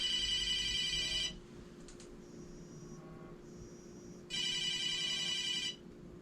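Telephone ringing from a spam call, with two loud bursts of electronic ringtone separated by a quieter stretch of faint beeping tones, close by with no talking.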